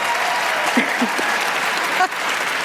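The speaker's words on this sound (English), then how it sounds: "You can applaud for her." A crowd claps steadily throughout, a dense burst of applause that carries on loud and even for a few seconds.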